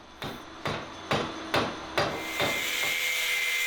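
A hammer strikes a Beyblade spinning top five times at a steady rhythm, each blow a sharp close knock. A rougher, continuous scraping noise follows.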